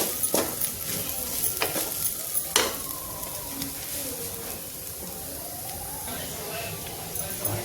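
Potato filling with onion for stuffed parwal (pointed gourd) fries in a pan, giving a steady close sizzle broken by stirring scrapes and occasional utensil clinks.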